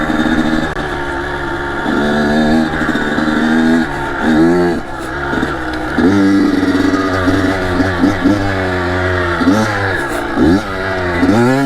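A Kawasaki KX85 dirt bike rides mountain trails in New York, its small engine loud and close, revving up and down repeatedly with shifting pitch as the rider works the throttle.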